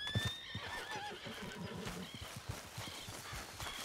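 Horse in Red Dead Redemption 2 neighing and clip-clopping toward the player, a clear whinny followed by rhythmic hoofbeats that carry on steadily and fairly close.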